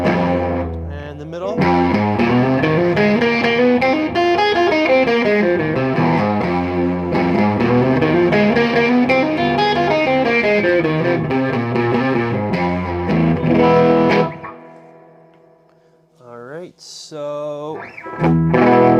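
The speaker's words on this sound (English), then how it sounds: "it sounds pretty good with the distortion on there" A 2017 Gibson Flying V electric guitar in Alpine White rings out loud and sustained through heavy distortion for about fourteen seconds, then drops away into a few short, scattered picked notes.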